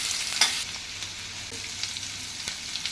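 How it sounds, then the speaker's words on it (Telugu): Thinly sliced onions fry in hot oil for an Andhra gongura egg curry, giving a steady close sizzle punctuated by a few sharp stirring clinks from a spoon against the pan. "ఆయిల్ వేగిన తర్వాత సన్నగా కట్ చేసి పెట్టుకున్న ఆనియన్స్ అందులో వేసుకొని ఆనియన్స్ బ్రౌన్ బ్రౌన్ వచ్చే వరకు బాగా ఫ్రై చేసుకోవాలి"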